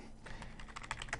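Typing on a computer keyboard, a quick run of close, crisp key clicks with uneven rhythm, alone without talk.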